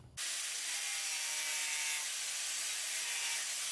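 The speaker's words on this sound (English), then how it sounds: "We're going to have to cut a bit out of this plastic." Plastic trim being cut away while a built automatic transmission goes into a Toyota Starlet, a steady, loud, harsh rasping that begins abruptly and runs without a break, close up, with no talking.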